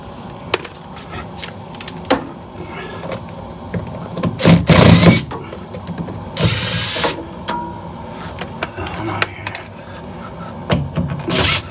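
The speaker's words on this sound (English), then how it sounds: "I'm gonna get those screws out of here." A power drill backs screws out of a finished basement wall during a cold air return installation, with two loud whirring bursts near the middle amid scattered clicks and scraping, no voices.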